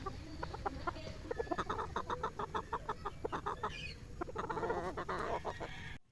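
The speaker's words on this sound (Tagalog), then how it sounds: "mukhang gutom na ang mga manok na nasa range area" Chickens on a game farm range area cluck repeatedly in quick, rhythmic bursts, with several birds calling close together. The flock sounds near and steady over a constant background hum.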